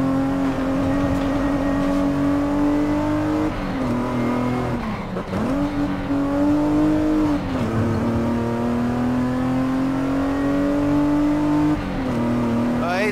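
A Mazda Miata in Forza Horizon 5 drives through dark woods, its engine holding a loud, steady drone for the whole stretch, with small pitch dips as it shifts or lifts off the throttle and a faint tire scrub.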